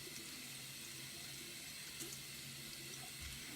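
Tap water runs steadily and close by while a paint brush is rinsed, a constant broadband rush with no pauses and no talking.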